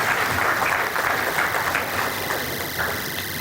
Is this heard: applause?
yes